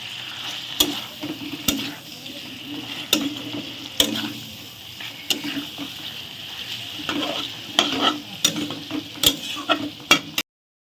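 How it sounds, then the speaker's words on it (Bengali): Meat with salt, turmeric and ground spice paste being stirred and sautéed in a pan, a steady sizzle broken by repeated sharp scrapes and clanks of the spoon against the pan. "মাংসটাকে আমি একটু কষিয়ে নিয়েছি"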